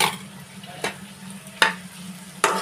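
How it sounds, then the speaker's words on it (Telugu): Onions fry with ginger-garlic paste in a pan for an egg curry, with a continuous sizzle broken by three sharp stirring scrapes spaced evenly, close and without speech. "కొంచెం ఇది కలిసిపోయేదాకా వేయించాలి"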